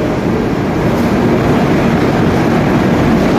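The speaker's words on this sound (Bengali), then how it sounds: "ট্রেন এখন সবে প্ল্যাটফর্মে ঢুকছে" The Padatik Express rolls into a station platform, producing a dense, unbroken rumble of wheels and carriages heard up close at a constant loud level.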